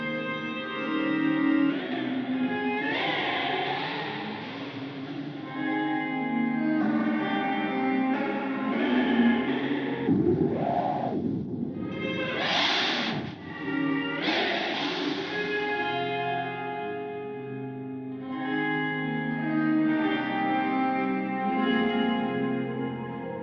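A guitar loop runs through a Strymon Cloudburst reverb pedal at full mix with modulation, its sustained chords swelling into a lush, shimmering wash that blooms and trails off between phrases, loud and continuous.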